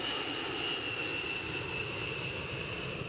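The largest US bomber, with eight engines, takes off; a broad, steady roar with a high whine on top, continuous and fairly far off, heard alone.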